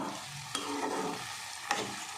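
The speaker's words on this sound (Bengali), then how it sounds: "তো এবারে এগুলো আদা রসুনটা একটুখানি ভাজা ভাজা হোক।" Ginger and garlic fry over a high flame in a pan, giving a steady close sizzle broken by two sharp stirring scrapes, moderately loud with no voices.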